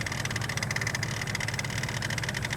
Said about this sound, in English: That horrible noise, as I uncovered, was caused by the crank pulley, or the crank damper